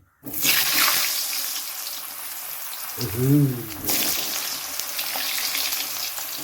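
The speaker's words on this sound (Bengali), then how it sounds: "তো কড়াই তেল দিয়ে দিয়েছিলাম খানিকক্ষণ আগে, তো তেল পুরোপুরি প্রায় গরম। এর মধ্যে আমি ছেড়ে দেবো এবারে আলুগুলোকে।" Potatoes drop into hot oil in a wok with a burst of loud, steady sizzling that continues, briefly joined by a low murmur partway through.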